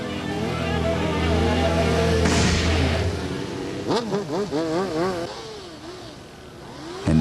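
A motorcycle engine roars and revs loudly during a wheelie on ice at the Sunset Tavern, followed by a wavering, rising and falling engine note as a voice talks over it.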